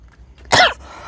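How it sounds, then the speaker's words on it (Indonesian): A single sharp, close cough from a man bursts out of near silence, short and harsh, then fades into a quiet room. "Mohon maaf batuk teman-teman."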